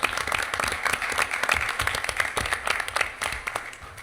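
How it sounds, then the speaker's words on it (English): Applause from a board of education meeting audience, many hands clapping in a dense, steady patter for about four seconds at moderate level, with a few voices faintly mixed in. "we ought to give Will a round of applause"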